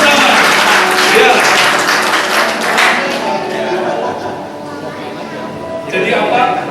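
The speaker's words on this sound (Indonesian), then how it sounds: "Kita sambut dengan tepuk tangan yang meriah, semangat kita bersama." A church congregation applauds steadily at a worship service, dense clapping filling the whole stretch with a brief dip near the middle before swelling again, voices mixed in underneath.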